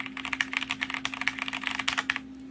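Fast typing on a mechanical keyboard with regular Cherry MX Red switches, a dense run of crisp, clacky keystrokes at a steady pace, close and fairly loud, with a faint constant hum underneath.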